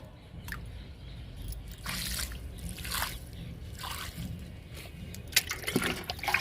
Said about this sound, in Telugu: కాగడ మల్లెకి వాటర్ ఇస్తున్నాను